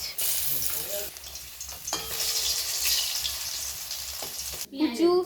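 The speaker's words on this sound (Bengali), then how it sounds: "মাছগুলো লাল লাল করে ভাজা হয়ে গেছে মা এখন তুলে নিচ্ছে মাছ" Rohu fish pieces fry in a pan with a loud, close sizzle and bursts of stirring and scraping as they are lifted out, with brief voices at the start and end.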